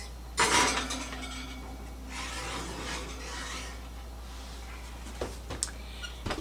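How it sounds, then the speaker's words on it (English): A casserole dish of pig in a blanket scrapes and clinks onto an oven rack at the start, followed by softer rubbing and a few faint knocks from the oven. "In the oven she goes."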